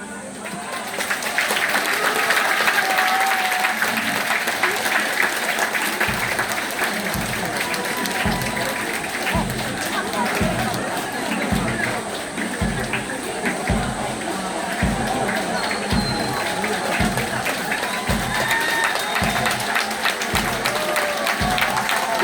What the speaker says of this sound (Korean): 입장 시에는 큰 박수 부탁드리겠습니다